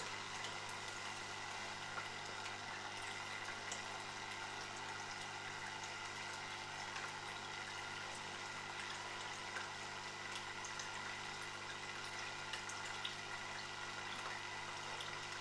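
An Oase Filtosmart 60 external filter on a nano aquarium, with air still trapped in its circuit, runs with a continuous steady hum and a faint gurgling, bubbling hiss.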